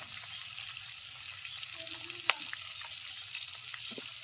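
Fish coated with turmeric, chili and salt frying in hot oil in a village kitchen, a steady soft sizzle with a few faint clinks and stirring sounds, no talking.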